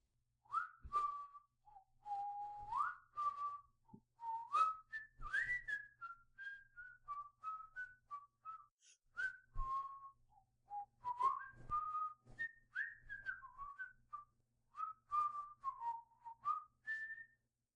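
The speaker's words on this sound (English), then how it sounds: "He whistles. First an air from Robert le Diable, then a popular song, then a blend of the two." A man whistles a melody alone, first an opera air from Robert le Diable and then a popular song, clear and close with short phrases and brief pauses.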